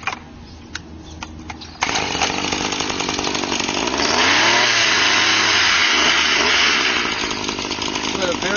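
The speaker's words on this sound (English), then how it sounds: "So as I started up, obviously it will be hard to talk over it" A RedMax SGCZ2500S brush cutter trimmer is cutting cattails. Its small two-stroke engine starts after a few clicks and a brief voice, then runs loud and close at a steady buzz that rises in pitch midway.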